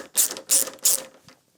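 A tool loosens screws on the beak of a 2020 BMW 1250 GS, giving three quick ratcheting bursts in a row, close and crisp, with no talking.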